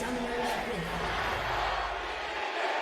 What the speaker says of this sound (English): You can hear the roar of the crowd once more.